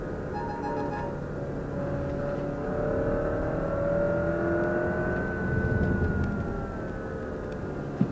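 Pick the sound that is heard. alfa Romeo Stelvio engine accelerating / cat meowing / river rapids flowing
alfa Romeo Stelvio engine accelerating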